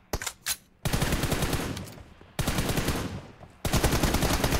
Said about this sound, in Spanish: escucho los disparos a la derecha